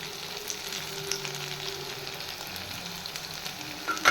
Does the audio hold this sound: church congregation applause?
no